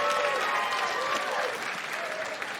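Applause from a large theater crowd of about 1,400 at a stand-up comedy show, a steady dense wash of clapping that fades slightly over a few seconds, with no talking over it.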